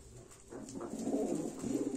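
Iraqi Sharabi pigeons coo close by, a low, rolling burble that swells and continues for a couple of seconds.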